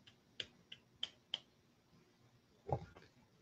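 A handful of light, sparse claps in an uneven rhythm, quiet and close, followed by a slightly heavier thud near the end, a mocking golf-style clap heard alone.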